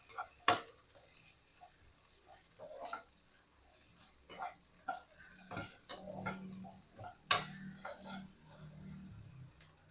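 Garlic and coriander brown in a pan while a spatula stirs, giving faint, sparse clicks and scrapes over a quiet background, with a soft voice murmuring briefly in between.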